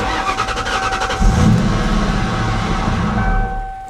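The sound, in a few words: Ford Mustang Cobra engine cranking after key turned in ignition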